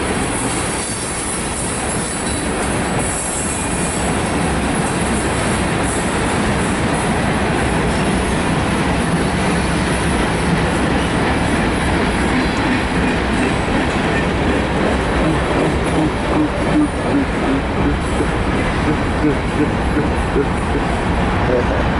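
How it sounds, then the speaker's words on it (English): A Union Pacific ES44AC locomotive leads a long manifest freight train, with an NS C40-9W also in the consist, through downtown El Paso, Texas. The train rolls past loud and close in a steady roar of clattering wheels and squeal, with no break. "Well, hey, at least I caught a train."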